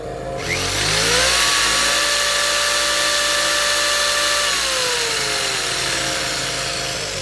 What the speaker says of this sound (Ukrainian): Вимикаю лампу, вмикаю лобзик.